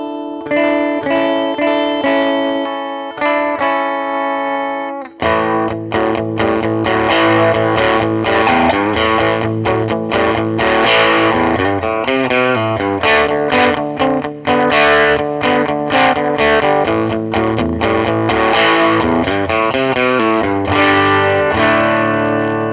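A distorted custom-shop electric guitar on its middle pickup with the volume lowered rings out a sustained chord, then plays a busy riff with a slightly softened, rounded tone and effects.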